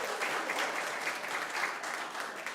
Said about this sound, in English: let's clap about it.